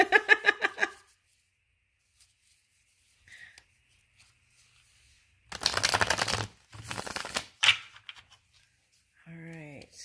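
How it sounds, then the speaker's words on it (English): Tarot cards shuffled in short bursts of riffling and flicking, close and crisp, separated by pauses, with a voice speaking at the start and end. "All right, let me keep shuffling."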